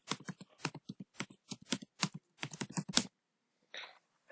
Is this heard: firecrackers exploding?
no